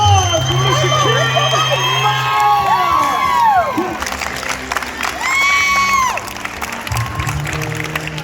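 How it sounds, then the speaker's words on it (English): Crowd cheering and shouting at a Delta bass fishing tournament weigh-in as the winner is announced, a loud continuous roar with whistles and excited voices rising and falling over several seconds. "give a round of applause for Mr. Ken."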